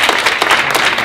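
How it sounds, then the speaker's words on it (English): An audience applauds panelists at a Q&A session, steady dense clapping throughout, close and loud. "a round of applause for our panelists"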